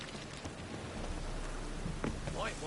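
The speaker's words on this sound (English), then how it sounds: "And it's raining again." Steady rain falls in The Witcher 3: Wild Hunt, a continuous broadband hiss of drops on the ground that lasts throughout, with faint speech-like sounds mixed in near the end.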